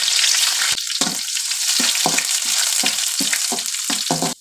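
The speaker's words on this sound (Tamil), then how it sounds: "பூண்டு இஞ்சி இடித்து வச்சுருக்குறது, கருவேப்பிலை, காஞ்ச மிளகாய் இப்போ இது போட்டுக்கலாம்." Crushed garlic and ginger, curry leaves and dried red chillies frying in a little oil, a loud bright sizzle with regular scraping stirs of a spatula against the pan, ending abruptly.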